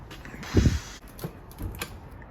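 A Unimog crawling gear set turned by hand on the bench, giving a short mechanical clunk followed by quieter ratcheting clicks and creaks, close and alone.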